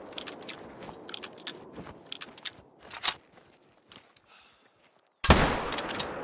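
Rifle shots at pronghorn in theHunter ring out as a few scattered sharp cracks among small mechanical clicks, ending in one loud, close blast that trails off, with no talk.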